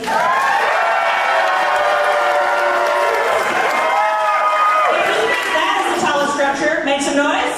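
A crowd at a gingerbread house competition cheers, shouts and applauds loudly and continuously, close and dense, with voices mixed throughout.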